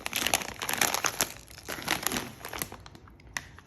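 Dry garlic cloves being peeled by hand, close up, with papery skins crinkling, tearing and crackling in quick irregular bursts that thin out toward the end.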